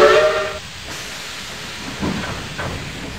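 Steam locomotives puff away from a railroad scene, opening with a brief whistle-like tone over a steady hiss, then a couple of soft chuffs rising out of the continuous steam noise.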